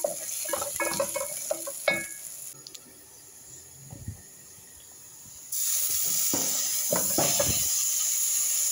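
Cardamom, cloves, cumin and dried black lemon fry together in hot oil, a steady hiss that swells louder partway through, with utensil knocks and clatters scattered over it.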